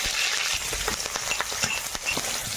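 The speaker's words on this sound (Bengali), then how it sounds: "কড়াইতে তেল দিয়েছি একটু কালো জিরে রসুন কাঁচা লঙ্কা" Nigella seeds, garlic and green chillies frying in hot oil in a wok, a steady broadband sizzle with a few soft stirring knocks, close and continuous throughout.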